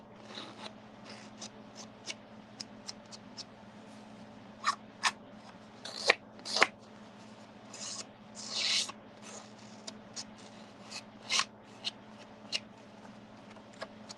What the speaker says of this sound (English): I am going to distress the edges a little bit